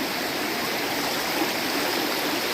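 A river stream rushes over rocks in a steady, loud, broadband roar, close and unbroken, with no voices over it.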